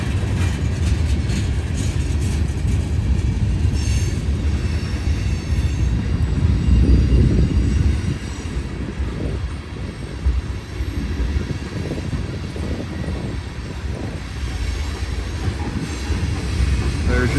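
Freight trains, including a BNSF train, roll past at a railway crossing in a loud, continuous rumble of wheels and cars, with brief squeals and clacking and no talk.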